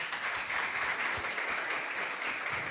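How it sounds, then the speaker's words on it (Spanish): A faint, steady patter of applause at the close of a university administration program's progress meeting, heard from a distance with a few isolated louder claps. "Un aplauso."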